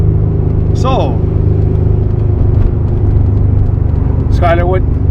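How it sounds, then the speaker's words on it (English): Steady low engine and road rumble from a 1991 Acura NSX on the move, a continuous drone filling the cabin, with two short bursts of voice speaking over it. "what are we driving in today? 1991 NSX."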